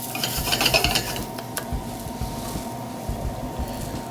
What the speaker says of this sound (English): We want to toast it off. It will really bring the flavors out.